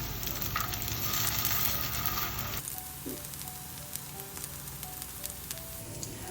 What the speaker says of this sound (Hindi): बस ऐसे ही मैं सारे कोफ्ते पलटा देती हूँ